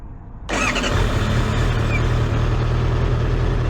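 A Honda CBR650R motorcycle engine kicks into life after a quiet moment, then settles into a loud, steady running rumble close by.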